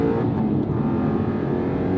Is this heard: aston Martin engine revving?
yes